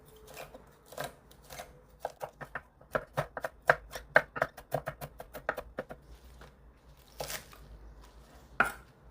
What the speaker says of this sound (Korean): 실파나 쪽파 3개 송송 썰어줍니다.